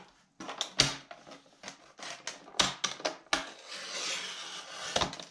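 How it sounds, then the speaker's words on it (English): Paper scraps sliding across a craft paper trimmer and being cut down to length, a run of sharp clicking and thudding strokes with a longer slicing scrape near the end, close and fairly quiet. "I'm just going to put these in my trimmer. And I'm just going to trim them down in length"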